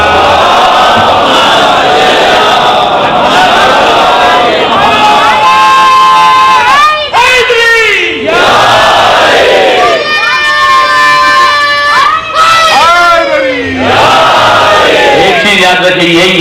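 Majlis gathering during Muharram chanting the Nara-e-Haidari slogan, loud massed voices in repeated rising shouted calls and responses, close and powerful, with brief dips between bursts.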